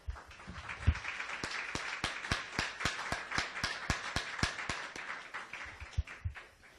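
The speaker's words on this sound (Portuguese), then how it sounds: "Vamos dar uma salva de palmas para o nosso Deus?" A church congregation clapping together in a fast, even rhythm, many hands striking in unison for several seconds, moderately distant and fairly soft, tapering off at the end.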